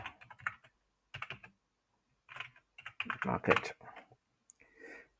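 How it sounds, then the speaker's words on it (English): Typing on a computer keyboard while entering a warehouse address, heard as short bursts of close key clicks separated by pauses. "Then we type in the physical address."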